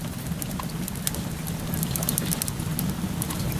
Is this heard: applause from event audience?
no